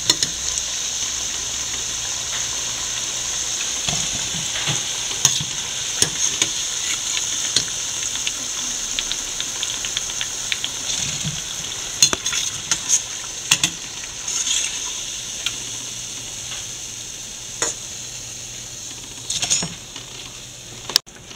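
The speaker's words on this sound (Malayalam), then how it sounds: "ഇതുപോലെ നമുക്കെല്ലാം ഈ മാവിൽ മുക്കി വറുത്തെടുക്കാം." Batter-dipped cauliflower pieces deep-frying in hot oil for bhajji: a steady, bright sizzle throughout, with occasional clinks and stirring taps of a utensil, close and continuous.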